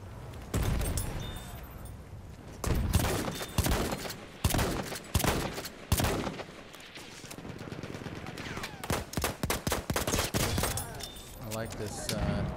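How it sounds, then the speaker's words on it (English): Hammerless pistol fire in Battlefield 1, with sharp single shots and quick bursts scattered through a loud battlefield mix. Distant explosions and other guns sound in the background, and a player talks over parts of it. "Hammerless is a really, really good pistol"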